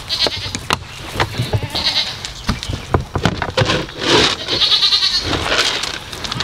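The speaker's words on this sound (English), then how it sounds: "so the goats are loving it" Several goats bleat repeatedly and close by at a farm, calls overlapping with patter and light wooden knocks as they feed around a used street sweeper brush.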